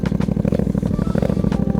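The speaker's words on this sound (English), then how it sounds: "So that's basically choke on. Kind of here, it's not idling. Now it's coming up a bit." A carbureted motorcycle engine in neutral warms up with the choke on, running a steady, close, loud putter with a rapid, slightly uneven rhythm that hasn't settled into a normal idle.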